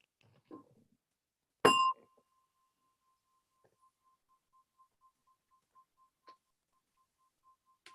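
A meditation gong is struck once during a quiet sitting practice, its bright strike settling into a long, thin, steady ring that fades slowly into near silence.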